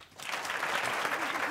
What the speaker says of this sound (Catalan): Amb aquest aplaudiment.